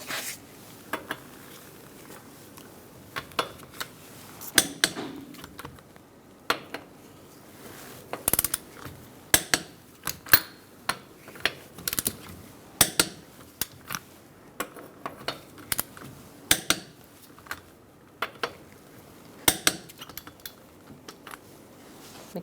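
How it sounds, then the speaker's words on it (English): A 21mm socket tightens the lug nuts on a 2002-2006 Toyota Camry, giving sharp metallic clicks and ratcheting taps in scattered bursts over a quiet garage background, fairly faint and with no voices. "Using a 21mm socket, we're going to torque our lug nuts to 76 foot-pounds."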